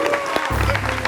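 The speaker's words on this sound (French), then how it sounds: "Applaudissez-le" Brief burst of audience clapping for Abomey on a morning show, mixed with background music and voices, short and fairly loud.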